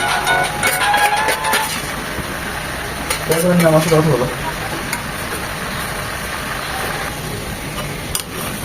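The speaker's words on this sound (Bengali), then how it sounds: "বাদাম বাটাটা দিয়েও দু মিনিট কষিয়ে নেব" Roast masala being stir-fried in a pan with ground peanut paste, a steady close sizzle with scraping stirs that swell briefly midway, running continuously throughout.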